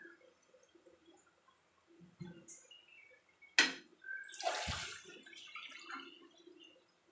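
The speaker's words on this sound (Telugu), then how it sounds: "ఇందులో కొద్దిగా వాటర్ వేస్తాను ఇప్పుడు." A little water is poured into ragi porridge made with rice starch water in a home kitchen. It comes as a short, faint splash and trickle among quiet utensil clinks and drips.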